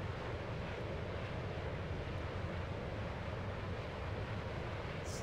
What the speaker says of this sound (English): Glad the noises from the plane are normal and unconcerning